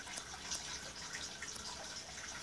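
River water flowing steadily in a survival video game, a continuous soft rushing wash with faint trickling detail and no voices.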